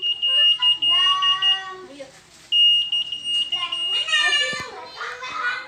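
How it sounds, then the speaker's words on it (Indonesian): A shrill electronic motorcycle anti-theft alarm on a 2020 Yamaha NMAX, triggered by vibration, cycles through rising and falling siren tones and beeps, loud and close, with a voice chattering in between. "ketika alarm aktif, ini kena getaran bunyi ya."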